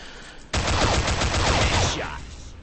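Gunfire from a TAR-21 assault rifle in the online shooter Combat Arms, a dense, loud run of rapid shots lasting about a second and a half, with spent-casing tinkles under the shots and a short tail as it stops.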